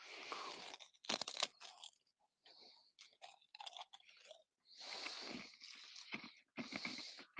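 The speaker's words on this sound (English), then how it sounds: "You hear all that chewing?" Cookies being chewed close up, with loud crunchy bites and wet munching in irregular bursts broken by short pauses.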